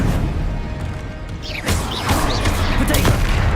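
Bombarda spell explosions in the game Hogwarts Legacy, with blasts and crashing impacts amid battle effects and a player calling out spell names over the action.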